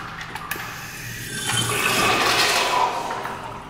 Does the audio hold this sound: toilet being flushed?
yes